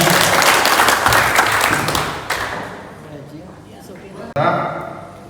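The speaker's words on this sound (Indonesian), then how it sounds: "Boleh tepuk tangan dari sekalian." Audience applause at a teachers' workshop at a vocational high school in Bangli, Bali: dense, loud clapping that fades after about two seconds, then a brief renewed burst near the end, with voices mixed in.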